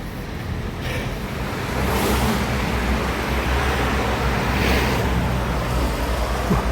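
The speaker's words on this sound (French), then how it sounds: "il y a plein de voitures" Cars passing along a town street near a church, heard as a steady road rumble with two distinct swells as vehicles go by close to the microphone, and no talk over it.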